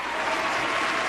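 Applause from an audience rolls steadily through the whole moment, a dense, even wash of many hands clapping at close-to-moderate distance with no voices on top.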